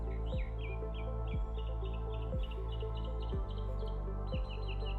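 Birds chirp and tweet in short repeated phrases over a steady droning tone with rhythmic low pulses, no speech.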